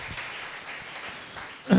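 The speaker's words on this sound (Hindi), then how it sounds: "ऐसी सुस्त ताली अपने पास रखो।" A church audience gives a brief, faint, half-hearted round of clapping, a soft patter that lasts under two seconds with a slightly louder burst at the end.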